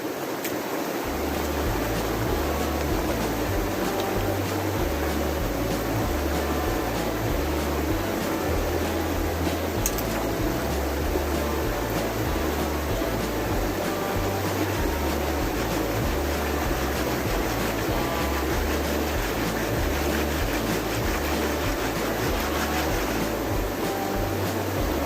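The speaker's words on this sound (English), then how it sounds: "this is my first pan of the day" Gold pan being swirled and washed in a flowing stream while camping, with a steady wash of running water and low rhythmic churning throughout, no talk.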